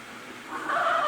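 A domestic goose gives a short honking call that rises and grows louder toward the end, close and alone with no talk.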